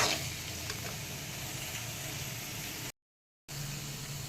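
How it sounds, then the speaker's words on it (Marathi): Carrot and radish sauté in a pan with a steady, close sizzling hiss that runs evenly, broken by a brief dead-silent gap before the sizzle resumes. "गाजर परतून झाल्यावर त्याच्यामध्ये मी मुळा घातलेला आहे आणि हा सुद्धा मी एखाद दोन मिनटं परतून घेत आहे"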